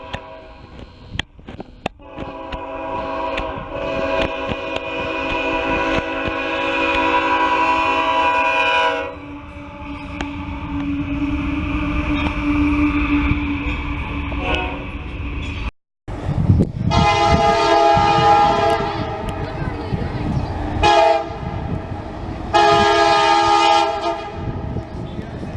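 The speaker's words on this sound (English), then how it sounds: "Next up is more northbound coal drag on the CSX, with more northbound GEVO." A northbound CSX coal train led by a GE Evolution Series (GEVO) locomotive passes at Marion, Ohio, a loud, sustained rumble with long blasts of the horn that drop out briefly and return in repeated sounds, close by.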